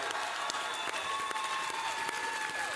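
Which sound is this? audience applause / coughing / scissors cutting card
audience applause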